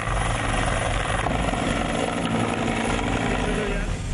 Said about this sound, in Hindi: हैवी मशीन गनों के साथ 2 गनशिप और 5 रेस्क्यू हेलीकॉप्टर्स भी इस्तेमाल किए जा रहे हैं